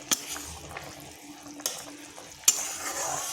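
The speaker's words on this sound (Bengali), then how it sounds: "সরষা বাটাটা দিয়ে আবার 2 মিনিট ফুটিয়ে নিচ্ছি" Katla fish curry in mustard paste (kason pora jhol) bubbles in a pan, with a steady low simmer, a few sharp spoon-on-pan clinks and a stir toward the end, close and fairly quiet.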